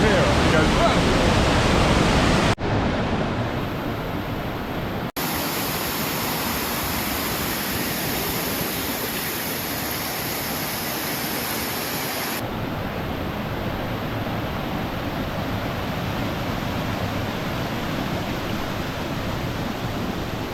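A powerful waterfall roars after a storm, a loud, constant broadband rush that fills the whole clip, with a couple of abrupt shifts in level and no talk heard.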